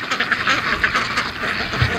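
Several ducks quack in a rapid, overlapping chatter close by, a busy stream of calls with no talking.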